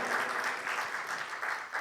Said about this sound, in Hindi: आप तालियां थोड़ा सघन करते रहिएगा